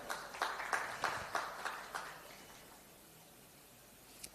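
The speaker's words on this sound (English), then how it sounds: "A huge round of applause, ladies and gentlemen." An audience at a cancer research conference claps briefly as a memento is presented on stage; sparse, rhythmic claps come fairly faint and distant for about two seconds before fading into quiet room tone.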